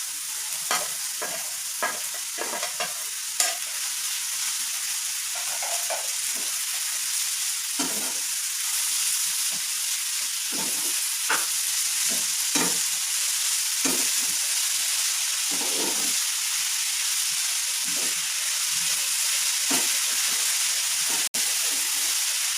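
Three chopped potatoes frying in oil for an egg and potato curry, a steady loud sizzle broken by repeated scraping stirs of a spoon against the pot, close by, with no one talking.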